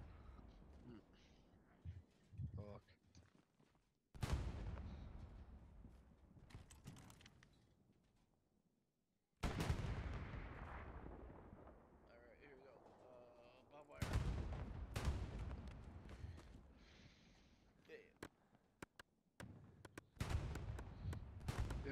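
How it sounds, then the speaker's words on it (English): Artillery shells land in bursts during a World War II video game match at Sainte-Mère-Église: several sharp, loud blasts with rumbling decays, separated by quieter gaps and low background battle noise. "Oh, they are dropping artillery on us."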